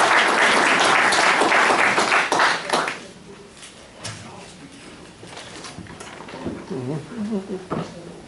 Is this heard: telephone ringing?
no